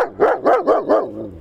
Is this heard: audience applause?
no